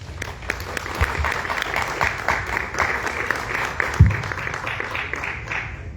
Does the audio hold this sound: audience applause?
yes